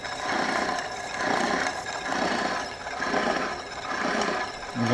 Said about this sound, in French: Faut juste pas oublier de lubrifier pour éviter que la fraise monte trop en température